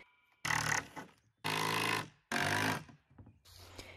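A power drill drives screws into wood while the hitch of a micro camper is attached, giving three loud whirring bursts of about half a second each with short pauses between, then a fourth starting at the end.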